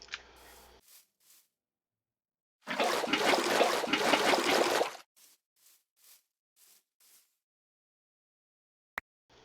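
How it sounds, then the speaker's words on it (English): Water pours in a steady two-second stream onto cotton crops in a modded Minecraft-style game, with short faint splashes before and after it and a sharp click near the end. "I guess I could just water up this cotton."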